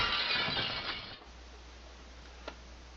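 Glass shattering sound effect, a loud crash of breaking glass up front that quickly dies into faint tinkling shards and a low hum, with one small clink afterward.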